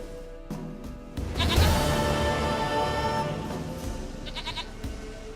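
A goat in The Witcher 3 lets out a loud wavering bleat that swells after a quiet start, then holds as a long quavering cry, with a few brief knocks and a faint later call.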